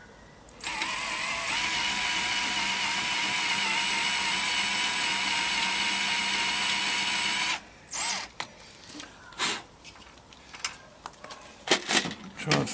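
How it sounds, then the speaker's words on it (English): A small power drill bores into a PowaWalker ranger collar with a steady, close whir for about seven seconds. It stops abruptly, and scattered clicks and handling noises follow. "give it another bit of a drill"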